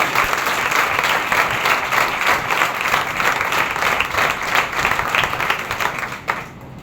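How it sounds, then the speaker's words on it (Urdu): Church congregation at a Sunday service clapping loudly and continuously, a dense sustained burst of applause that fades near the end. "آئیں زوردار تالیاں بجائیں خدا کے جلال کی"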